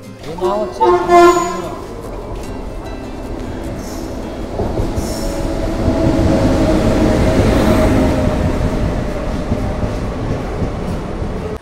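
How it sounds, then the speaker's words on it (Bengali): A passenger train pulls into a station in West Bengal on the Tarakeswar route, with a loud multi-tone horn blast early on, then rumbling wheels, rail clatter and faint squeal growing louder as it rolls in close by. "চলুন, ট্রেন আসার সময় হয়ে গেছে আর হাতে মাত্র 5টা মিনিট বাকি আছে।"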